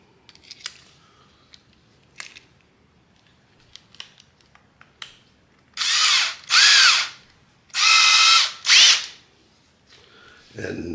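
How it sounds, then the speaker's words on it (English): After a few quiet clicks and taps, a power drill polishing a bintac S 45 airgun barrel whirs in four loud, close bursts of about a second each, separated by short pauses. "So grab your drill."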